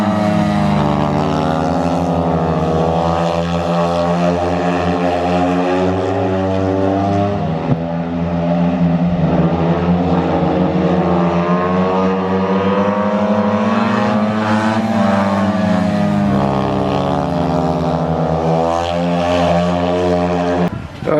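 A speedway motorcycle engine running on a track, a loud, steady, high-revving drone that rises and falls in pitch and fills the whole stretch close to the listener.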